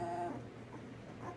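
One-week-old British Labrador puppies give soft, thin whimpers in a short burst, close and faint, with a brief higher whine near the start and low background noise throughout.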